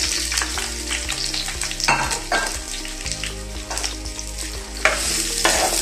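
Chiles and onion sizzle and crackle in a clay frying pan while being stirred, a steady close-up fry with scraping stir strokes breaking through at intervals.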